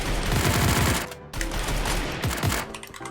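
Rapid automatic gunfire in a shooting video game, loud close bursts of fast repeated shots with a brief gap between volleys.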